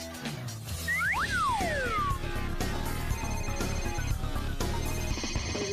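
A telephone rings with a repeating electronic tone over a busy background of other sounds during a radio talk show segment about a phone call.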